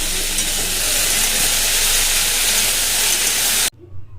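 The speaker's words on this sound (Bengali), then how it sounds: "এখানে আমি ফুলকপি আলু ভাজাটা বসিয়েও দিয়েছি" Cauliflower and potato frying in a pan on a home kitchen stove, a loud, even sizzle and hiss that runs steadily and then cuts off abruptly, leaving a quiet room.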